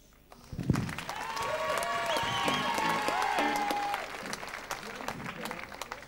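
A concert audience applauds a band, with a burst of clapping and crowd noise rising and then tapering off, while a voice talks over it and some sustained musical tones sound in the background.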